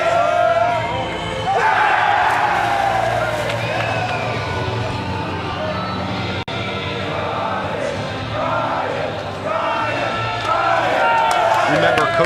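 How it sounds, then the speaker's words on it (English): Crowd at a college men's and women's swimming and diving championship cheering and yelling, rising and falling in waves, with commentators talking over it. "Cheering on their whole coaching staff."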